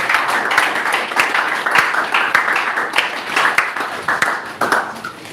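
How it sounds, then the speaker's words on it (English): Group applause at the closing ceremony of a black soldier fly farming training, steady dense clapping from many hands continuing for several seconds, fairly close. "Let's send a round of applause."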